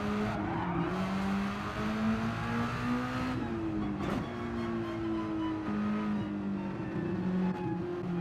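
A race car loses control on a track corner: a loud engine note drops under braking, then tyres squeal and skid at length as the revs climb again on the throttle, heard close and continuous.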